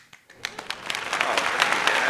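An audience greets the producer KSHMR with clapping that starts as a few scattered claps, then swells into dense, steady applause from a nearby crowd.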